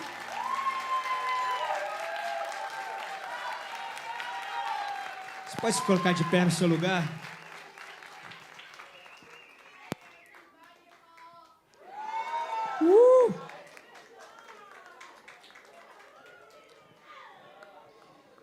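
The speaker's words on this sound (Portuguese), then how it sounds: "Você pode aplaudir." A church congregation breaks into a short burst of applause lasting about a second and a half, set among a pastor's steady Portuguese speech with background room noise and crowd murmur.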